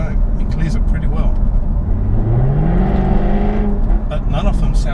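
A Jaguar F-Type R V8 revs, its rising engine note sweeping upward over about two seconds before easing off, loud and close, with someone talking over it throughout.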